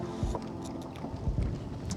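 A fishing boat moves across a wind-swept lake while anglers seek shelter from the wind. Steady rushing water and wind noise buffet the microphone, with a few low thumps from the hull and no talking.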